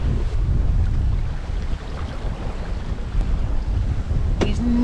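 Sailboat moving at about 5 knots through the water in a 9-knot breeze, a steady wash of water and wind buffeting the microphone with a brief tonal squeak near the end.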